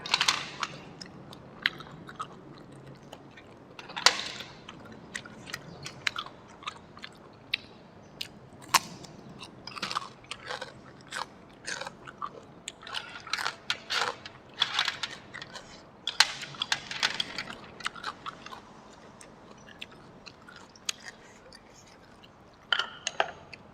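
Crunchy bites and chewing of field snails dipped in a spicy seafood sauce, a steady run of close, sharp crunches and mouth sounds across the whole stretch with no talk.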